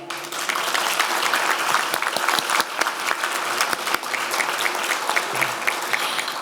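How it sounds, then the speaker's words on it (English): A crowd at a community organizations' event claps for philanthropists on stage, sustained applause with individual sharp claps standing out from the steady rattle throughout. "Please applaud them."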